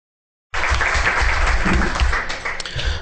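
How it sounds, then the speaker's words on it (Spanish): After a half-second of silence, applause from the audience at a panel discussion starts abruptly and continues steadily at a moderate level, dipping a little near the close. "Les pido para ella un fuerte aplauso"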